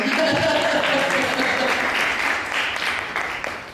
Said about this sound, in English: I think we could give him an applause